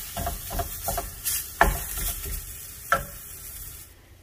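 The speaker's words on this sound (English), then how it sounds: "just start breaking the meat apart and cooking it through" Ground beef sizzles in a cast iron pan for cheeseburger pizza topping while a utensil scrapes and breaks it apart, giving several sharp clacks against the metal over a steady low fry.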